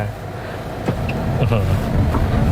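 Car accelerating hard from standstill in a 0 to 100 km/h test, engine note climbing steadily and growing louder through the gears, heard from inside the cabin, with someone talking over it.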